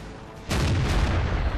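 A tank gun fires once in World of Tanks, one sudden heavy boom that starts the clip after a brief low rumble, then a rolling, fading roar lasting about a second.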